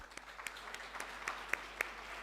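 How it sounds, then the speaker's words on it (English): Conference audience applauding, a faint, steady patter of many hands with a few sharper individual claps standing out, heard at a distance in a large hall. "So I think we all deserve a big, big, big round of applause."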